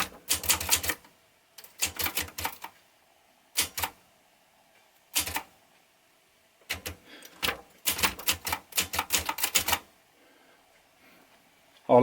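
Keys of a manual typewriter strike in sharp clattering bursts separated by silent pauses, close and loud on a slightly flexible desk, with rapid runs of keystrokes and a final clack at the end.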